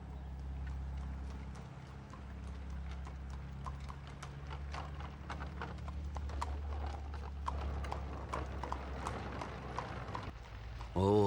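Horse hooves clip-clop steadily as a horse pulls a cart through town streets, a continuous rhythmic clatter under a low rumbling background, with occasional faint voices.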